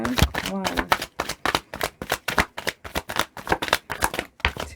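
Tarot cards are drawn one at a time from a deck in a run of brisk, evenly spaced papery snaps and flicks. A voice is heard briefly at the start.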